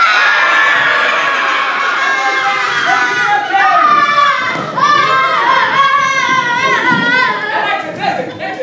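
A stage-play audience shouts and cries out in fear, a loud, dense wash of overlapping screams and yells that builds and holds throughout, with higher shrieks rising in the second half.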